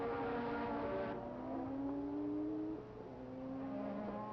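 Formula One cars from the 1983 season race on a road course, their high engine whine rising and falling in pitch as several cars pass in succession at moderate distance, with no talk over them.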